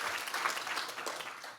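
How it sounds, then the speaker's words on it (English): Audience applause at a research talk session, a steady dense patter of many hands clapping at moderate volume, continuous throughout without voices. "let's give a warm applause for him"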